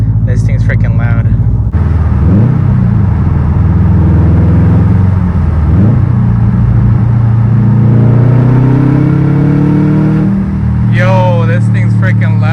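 A 2021 Subaru STI revs hard through a loud exhaust, heard from inside the car, its engine note climbing and falling in several surges over a constant rumble, with voices talking over it.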